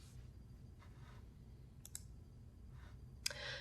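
Soft computer mouse clicks in a quiet room as a window is closed on a Windows PC, a few faint isolated taps with a sharper, louder click near the end.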